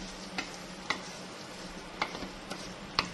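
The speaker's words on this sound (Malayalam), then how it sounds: "നന്നായിട്ട് ഇളക്കി കൊടുക്കണം കേട്ടോ" A beef dish with fresh cream is stirred in a pan, giving a soft continuous simmer with several light scraping clicks of the spoon at irregular intervals.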